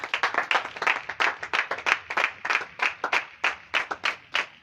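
A church congregation applauding during a baptism preparation service in Grand Bassam: steady rhythmic clapping in unison, around four claps per second, close and lively, with no talk over it.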